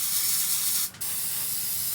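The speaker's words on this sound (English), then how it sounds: "I'm gonna spray paint this black, let this thing dry" Black spray paint hisses from a can onto scrap wood in a steady, close, loud spray, broken by one short pause near the middle before continuing.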